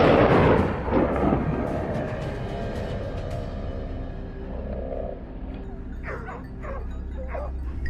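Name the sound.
hunting dogs barking during a wild boar hunt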